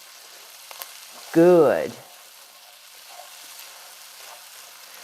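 Vegetables and carrots sauté in a pot for a white bean, chicken and green chili stew, making a soft, steady background sizzle. One short spoken word sounds briefly over it.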